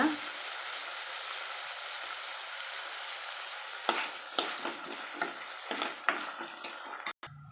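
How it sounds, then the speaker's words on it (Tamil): Tomatoes and salt sauté in a pan for small-onion sambar, giving a steady close sizzle broken near the end by a series of stirring scrapes and clicks. "ரெண்டு தக்காளி பழத்தை வந்து சேர்த்துக்கலாங்க கூடவே நம்ம சேர்த்து வதக்கலாங்க"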